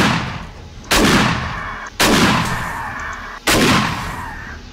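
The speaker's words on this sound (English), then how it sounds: "Time for the shotgun." Three loud shotgun blasts in the video game 7 Days to Die during a horde night, evenly spaced about 1.3 seconds apart, each a sharp crack with a decaying tail and a low background rumble between shots.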